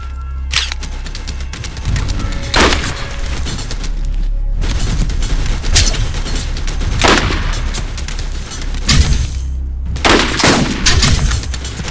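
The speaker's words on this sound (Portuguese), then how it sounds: "Tá tomando tiro aí." Rapid bursts of gunfire in the video game Borderlands during a co-op fight, loud and dense, with repeated volleys and short gaps between them.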